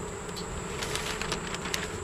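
Honey bees buzzing densely around a hive during beekeeping in late July, a steady close hum from many insects with brief louder passes near the microphone.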